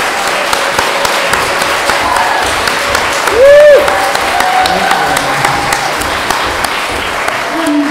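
An audience at Humanist Hall gives CeCe McDonald another round of applause: steady, dense clapping fills the room for the whole stretch, with a brief whistle-like tone rising above it midway.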